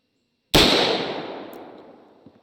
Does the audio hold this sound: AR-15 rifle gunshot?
yes